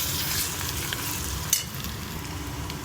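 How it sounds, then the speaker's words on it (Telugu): Ginger garlic paste fries in hot oil while being stirred, giving a dense crackling sizzle with a soft scrape of the spoon and one sharper clink partway through; no voices. "అల్లం వెల్లుల్లి పేస్ట్ వేసాం కదా, కలుపుకుందాము."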